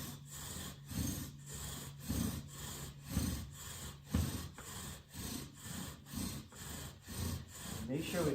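A white pine bow drill spindle grinds against a fireboard in a slow, even back-and-forth rhythm, each stroke giving a rasping wooden scrape that repeats about once per second, close up and fairly quiet.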